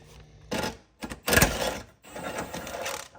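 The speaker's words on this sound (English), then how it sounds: "you're going to get a 21mm socket and an impact" An impact wrench with a 21mm socket removes suspension bolts while lowering springs go into a 2025 Mustang GT, giving several short, loud rattling bursts of hammering separated by brief pauses.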